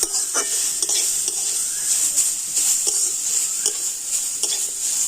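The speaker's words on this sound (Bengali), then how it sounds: "হলুদ দিয়ে সমস্ত সবজিগুলো একটু আমি হালকা করে নাড়াচাড়া করে নেব" Vegetables seasoned with turmeric and salt get stirred in a sizzling pan, a bright hiss of frying overlaid by regular scraping and clinking strokes of a spoon against metal, close and fairly loud, no speech.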